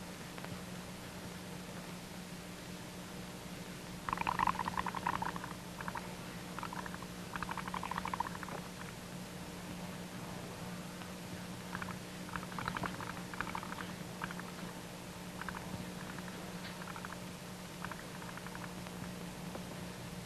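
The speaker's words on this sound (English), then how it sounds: "blowing lots of little bubbles" Soft bubbling gurgles from blowing through a pipe into water come in short bursts over a steady low hum, quiet and close, with irregular pauses between the bursts.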